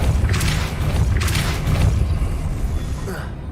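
Confringo blasting spells explode in the Hogwarts Legacy video game as a few deep, rumbling booms with crackling bursts, repeated over a steady low roar while a voice talks over the action.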